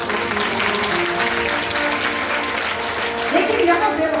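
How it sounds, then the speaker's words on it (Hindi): A crowd applauds at a Bhagavat Katha religious discourse, loud dense clapping sustained throughout, with a voice briefly rising over it near the end. "ताली बजाओ।"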